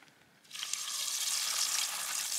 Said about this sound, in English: Gonna bomb in me pub style chips